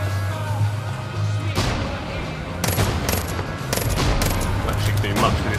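Gunfire in the video game Far Cry New Dawn, with rapid bursts of automatic fire and loud cracking shots layered over a continuous low rumble, starting about a third of the way in.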